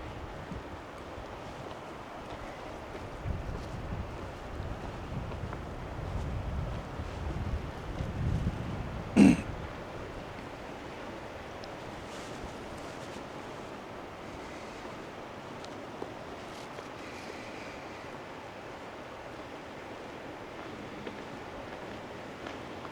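Steady rush of moving water beside a Montana dirt road, with some wind noise, fairly faint and continuous, with one brief knock partway through.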